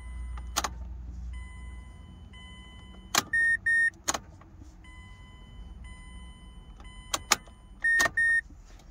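Ignition on a 2012 Mazda CX-7 is cycled repeatedly after the fuel system was drained and the tank had been filled with diesel. Sharp key clicks and clunks are followed by short electronic chimes and brief fuel pump buzzes, repeating several times with no talk.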